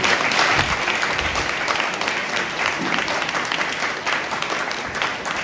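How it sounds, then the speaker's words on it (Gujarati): A church congregation at a St. Ignatius feast and First Communion Mass breaks into sustained applause, with dense clapping filling the room for several seconds and a few voices faintly audible underneath. "આપણે તાળીઓથી એમને વધાવી દઈશું."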